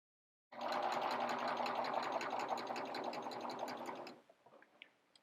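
A sewing machine runs steadily for several seconds with a fast mechanical stitching rattle, then stops, leaving a few faint clicks.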